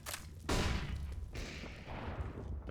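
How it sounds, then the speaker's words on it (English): A sharp sniper rifle crack in CS:GO hits suddenly and loudly, followed by a second report and lingering game noise, with faint bursts of distant gunfire and clatter underneath. "There comes the no scope headshot."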